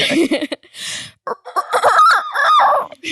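A person's voice imitates a rooster crow, a loud, strained cock-a-doodle-doo with rising and falling pitch, close to the microphone.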